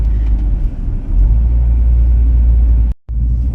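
A car travels along winding countryside roads through French villages, its engine and tyre rumble forming a steady, loud, low drone with a brief dropout near the end and no talk.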